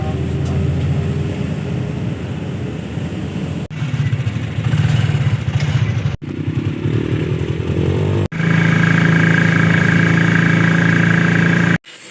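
A motorcycle engine runs close and loud in Pangasinan, a steady buzzing drone that shifts pitch and intensity across several abrupt cuts, with no talking.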